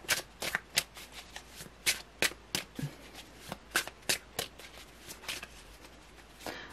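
Tarot cards are shuffled by hand in quick, irregular riffling bursts, crisp and close, with short pauses between the flurries and no one speaking.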